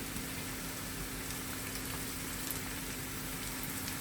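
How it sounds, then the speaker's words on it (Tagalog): Tomatoes sautéing with garlic and onion in a pan as a base for shrimp paste, a steady close sizzle and crackle throughout with a faint low hum underneath and no talking. "Iluluto muna natin ang kamatis na may bawang at sibuyas."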